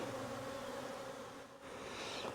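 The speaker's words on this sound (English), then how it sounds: "here's the bees where I shook them into the lid" A soft, continuous buzzing of many honey bees shaken into a hive lid, close by and low in volume, with a faint insect whine rising near the end.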